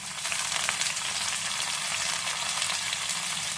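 Green chili, ginger and onion sautéing in hot oil for a North Indian style dal curry, a steady close sizzle and crackle running unbroken without speech.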